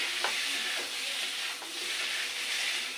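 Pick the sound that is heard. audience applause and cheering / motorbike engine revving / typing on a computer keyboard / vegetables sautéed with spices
vegetables sautéed with spices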